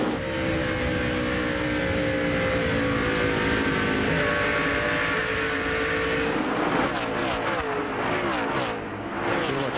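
Loud, continuous roar of NASCAR stock cars racing in the 2003 Southern 500 at Darlington, engines droning steadily with pitch shifts as cars pass, turning rougher and more varied near the end.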